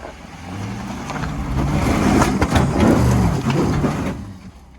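A Jeep Grand Cherokee WK2 engine revs up and holds a strained growl while climbing an off-road obstacle on a trail ride, swelling in the middle then easing off, fairly close with no talking.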